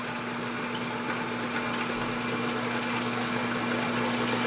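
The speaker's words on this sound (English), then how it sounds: "turn on the pump. So it's draining the hole now." A pump drains meltwater from a hole fed by a weeping tile system, giving a steady close mechanical hum with a constant tone under rushing, gurgling water and no talk.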